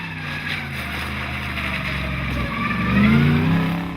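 Rally car on a British cross country championship course, engine droning steadily and rising to a louder revving swell near the end, heard from close by with no talk.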